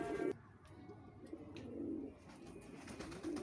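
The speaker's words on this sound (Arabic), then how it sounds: "الميه بتاعتنا والحمام بتاعنا بيتغدى اهو" Pigeons on a rooftop coo softly while feeding, low throaty calls repeating every second or so, faint and close, with light rustling between them.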